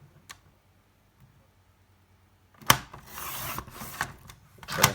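Scissors trim a small scrap of patterned craft paper for a memory box wallet: a brief snip, quiet pause, then a burst of close rasping cuts and rustling paper.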